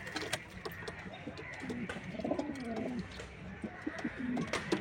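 Diamond doves coo and call repeatedly close by, soft rolling coos with a few faint chirps over a low room background.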